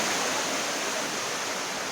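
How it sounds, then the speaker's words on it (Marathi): Loud, rushing water roars steadily and close, a dense continuous wash of noise with no breaks. "असं आवाज बघा पाण्याचा केवढा आवाज येतोय"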